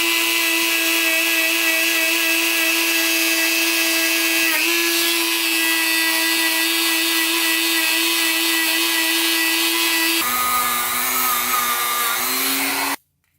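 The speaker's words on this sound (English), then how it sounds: "this is a brass wire wheel on the Dremel, so it's really soft." Dremel rotary tool with a soft brass wire wheel whining at high speed as it scrubs dirt off a Kawasaki KX250 dirt bike part, loud and close, its pitch dipping and shifting as pressure changes before cutting off.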